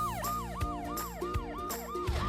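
A cartoon police car siren wailing in rapid repeating up-and-down sweeps, steady and continuous with an engine-like hum beneath, moderately loud and alone without talk.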